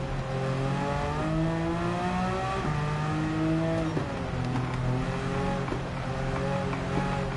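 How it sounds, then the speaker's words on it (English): A Porsche Cup race car engine in Gran Turismo 7 revs steadily, its pitch climbing and dropping in repeated surges through a curve, loud and close with no talking. "You can hear me a goosing that engine to get around that curve."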